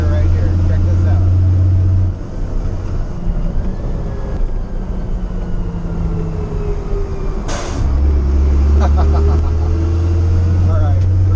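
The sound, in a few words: Pacbrake PXRB exhaust brake on CAT 3116 LMTV truck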